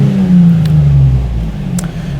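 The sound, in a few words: car engine revving as throttle is hit, AEM Infinity tuning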